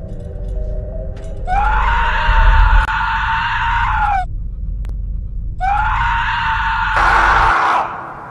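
A woman screams in a horror film, two long, loud shrieks separated by a brief pause, over a low rumbling score and faint groaning.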